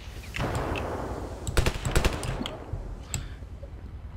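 Gunfire in Ravenfield: a rumbling battle backdrop breaks into a tight cluster of rapid, loud shots, followed by a few scattered, sharper reports as the fighting continues.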